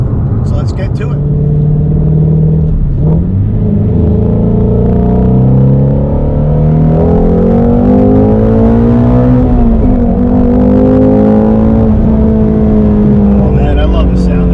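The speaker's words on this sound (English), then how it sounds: "The exhaust note on this car is probably the main reason I bought it" Shelby GT350 Mustang exhaust while driving, a loud, deep, steady engine rumble with rising and falling revs throughout, heard from inside the car.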